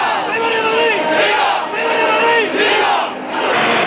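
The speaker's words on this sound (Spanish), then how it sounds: "Los gritos procedentes de las gradas eran de ánimo." Tens of thousands of football supporters in the stands of Madrid's Santiago Bernabéu stadium roar and chant encouragement during the warm-up before a Real Madrid versus Zaragoza league match, a loud, sustained wall of crowd voices swelling in waves.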